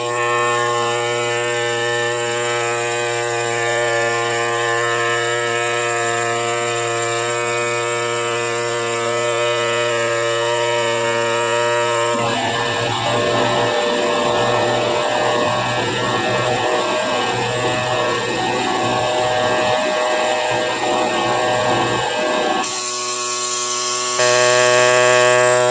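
A sharpened stylus works over the rock matrix around a fossil crab, a continuous buzzing, scraping drone with tonal whine that turns rougher and grittier midway, steady and close with no talking.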